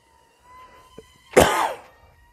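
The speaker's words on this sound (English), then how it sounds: "I promise that's not a COVID cough" A single harsh, close cough bursts out after a short quiet stretch, with a small throat sound just before it.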